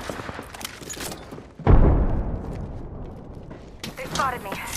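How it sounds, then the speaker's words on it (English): Gunfire directed at the player in a shooter game, a loud burst of shots and impacts followed by a decaying rumble, then further rattling fire and clatter amid game sounds. "They spotted me. I'm taking shots."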